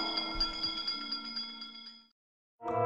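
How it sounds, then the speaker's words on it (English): A bell rings with a bright metallic shimmer for about two seconds, fading into brief silence before another ringing burst starts. "give us a hint by ringing a bell"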